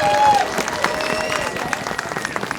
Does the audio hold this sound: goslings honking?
no